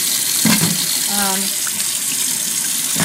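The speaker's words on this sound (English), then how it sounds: "all I'm going to be doing is rinsing it and trying to handle it real gently" Hand-dyed wool is rinsed under running tap water in a sink, a steady close splashing rush with a brief gurgle and squish partway through.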